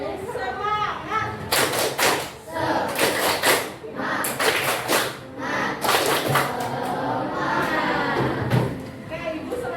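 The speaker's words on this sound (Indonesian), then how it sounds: "Boleh, tepuk semangat." A group of schoolteachers gives a rhythmic tepuk semangat clapping chant, sharp patterned claps in bursts with voices chanting along, close and loud throughout.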